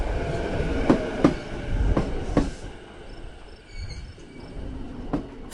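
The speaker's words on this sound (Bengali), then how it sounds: "অবশেষে 9:30 ট্রেনটি এলো।" A train running on rails as it pulls in at a rural station at night, with heavy low rumble and a few sharp metallic clacks in the first half, then a quieter rolling hum with faint squeals.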